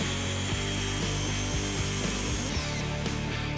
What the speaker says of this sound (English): Now we're drilling a hole in the cabinet for a small dowel rod